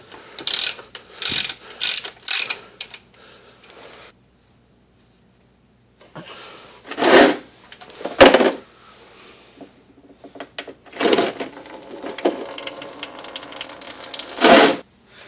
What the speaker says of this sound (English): take a 15mm socket, remove these 4 bolts holding on to the skid plate